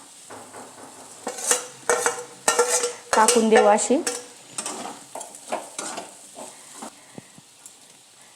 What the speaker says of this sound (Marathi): लाल मिरची पावडर, हळद, मीठ, हे आपण असं टाकून परतू घेऊ